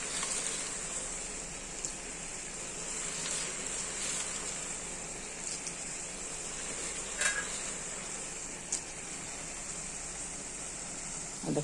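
Bottle gourd cooking in a pan with hand-made fried lentil dumplings, black cumin and bay leaf; a steady, close sizzle with occasional light clinks and scrapes of stirring.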